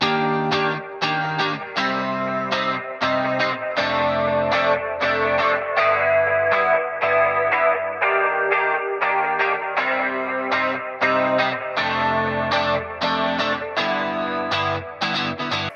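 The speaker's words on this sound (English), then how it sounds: "I'm using a preset called Tape Chorus, and I'm also automating this mix slider to move across and then come back" Guitar played through a Ujam UFX Delay plugin on its Tape Chorus preset, with the mix moving across and back: steady rhythmic strummed chords with wobbling chorus and delay repeats, loud and continuous, no voices.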